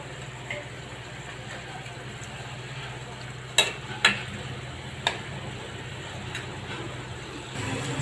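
Fried hilsa fish pieces stirred into cooked spice paste in a pan, a low soft sizzle under a few sharp clicks and scrapes of a spoon against the pan, close and fairly quiet.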